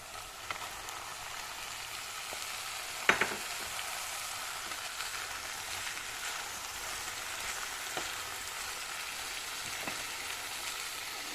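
Okra drained from lemon water goes into a hot pan and fries with a steady, soft sizzle, broken by a sharp clatter near the start and a few faint clicks.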